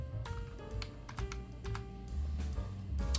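Keys clatter in quick irregular bursts as someone types on a computer keyboard, close and fairly quiet, with no speech.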